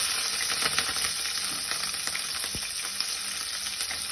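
Chopped green chillies fry in hot oil with mustard seeds for a vegetable curry, giving a steady, close, continuous sizzle and hiss with faint stirring taps throughout.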